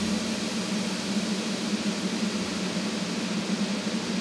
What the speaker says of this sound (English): what this allows us to do is freeze the diffusion part of the reverb so that it lingers effectively indefinitely